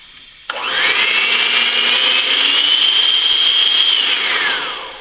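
Electric mixer beaters pureeing pumpkin, switched on with a sharp click into a loud, steady high whine that holds for several seconds before winding down.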